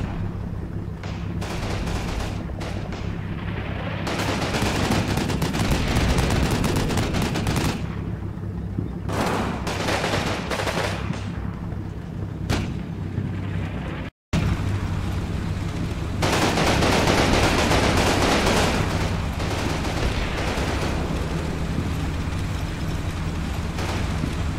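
Sustained machine gun fire rattles in long, loud bursts during a Combat Mission battle, with brief gaps between volleys and a short silent break partway through.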